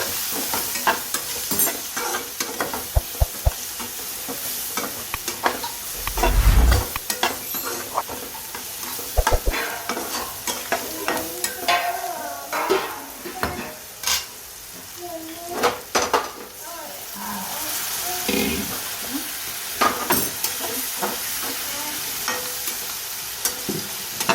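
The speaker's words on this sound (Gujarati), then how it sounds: "લાલ મરચું, હિંગ, ધાણા જીરું, ગરમ મસાલો સરસ બધું મિક્સ કરી લઈએ." Spoon stirring red chilli powder, asafoetida, coriander-cumin powder and garam masala into a mixture in a pan, with scraping and clinking against the metal and a soft sizzle underneath. The knocks are uneven and some land hard.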